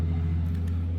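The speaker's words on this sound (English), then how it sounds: "my car is outside so you can obviously hear it" A car engine idles with a deep, steady low hum and rumble, close by and continuous, with no voices.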